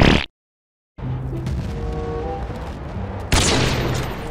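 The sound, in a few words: gunfire in video game Battlefield Bad Company 2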